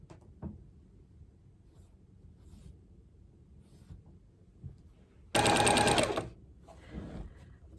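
A light heavy-duty sewing machine runs in a loud, dense burst of about a second, preceded by quiet handling and small taps and followed by a softer rustle.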